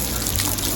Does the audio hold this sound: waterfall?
yes